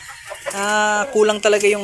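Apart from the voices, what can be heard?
Rhode Island and Brahma chickens clucking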